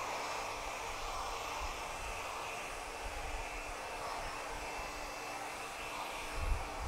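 A hair dryer fitted with a diffuser runs steadily while drying a man's hair, a loud continuous whooshing roar of airflow and motor that holds even for the whole stretch.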